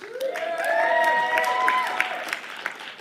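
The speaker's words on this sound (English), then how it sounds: "My cheering section out there." An audience at an annual council meeting applauds with scattered claps, and cheers and whoops rise over the clapping for a few seconds before fading.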